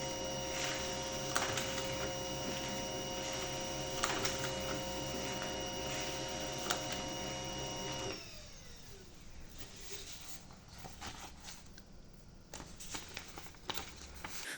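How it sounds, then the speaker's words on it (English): A Pantum P2500 laser printer prints three pages of test and information printouts, giving a steady loud mechanical whir with tonal hum for several seconds before dropping to quieter rustling, clicking paper-handling noises. "Release the button when the machine starts printing. The printer will print 3 pages."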